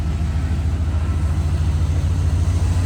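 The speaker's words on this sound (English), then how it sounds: "We'll take a listen to the engine." A 1978 GMC Jimmy with a replacement 350 engine runs at a steady, smooth idle, a loud continuous low rumble with no one talking.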